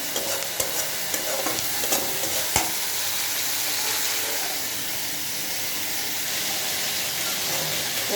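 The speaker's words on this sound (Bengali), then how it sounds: "এক চুলায় আমি মাছটা ভাজতেছি" Boal fish frying in oil in a pan on a stove, a steady close sizzle and hiss with a few sharp crackles and stirring clicks early on, continuous throughout.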